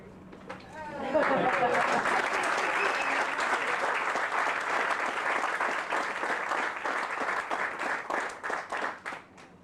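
Brisk applause from a crowd at a military promotion ceremony builds quickly after a brief voice and holds strong, then breaks into scattered, uneven claps as it winds down.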